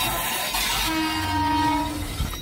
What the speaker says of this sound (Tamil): பேசஞ்சர் தான், பேசஞ்சர் ட்ரெயின் தான்.